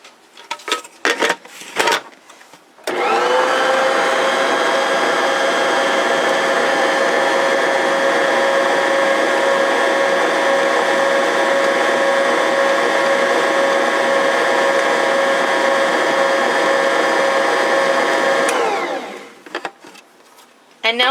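A stand mixer with its pouring shield off beats powdered sugar into butter and chai spices for orange-scented shortbread, a loud steady whirring motor hum running unbroken for about fifteen seconds, with brief clatter before it starts and after it stops.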